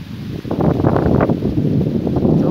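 Wind buffets a microphone outdoors on a bike ride past a cornfield, a steady low rumbling roar with gusty swells that holds loud and continuous throughout.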